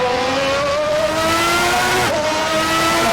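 Car engine in the racing game Assetto Corsa, a loud sustained whine rising steadily in pitch as it accelerates, with a brief gear change dip near the end and faint tire noise underneath.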